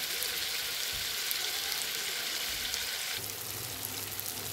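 Meat fries in a hot pan with a continuous crackling sizzle; near the end, hot water is poured in and the sizzle shifts to a slightly lower, rougher hiss.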